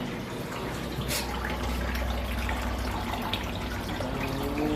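Water rushing out of an Adler under-counter dishwasher through its opened drain plug, a steady, fairly loud gushing and splashing that continues without pause.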